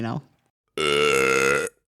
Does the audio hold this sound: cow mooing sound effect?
no